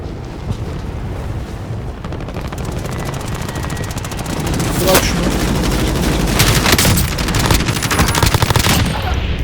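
Gunfire in Call of Duty Warzone on Xbox Series S: continuous loud rattling bursts and sharp shots mixed with a droning helicopter-like rumble, growing louder midway.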